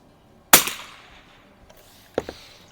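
An early production Winchester 52 rifle fires at an outdoor range: one loud, sharp close shot with a decaying ring, followed a moment later by a couple of quieter clicks and clacks of the action.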